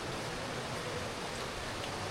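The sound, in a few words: rain falling inside a cave garden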